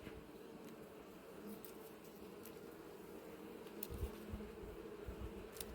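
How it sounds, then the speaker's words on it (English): Wasps buzz around shaded beehives at an apiary, a faint, continuous drone with a few soft thumps near the end. "it's automatic now to hit wasps like that"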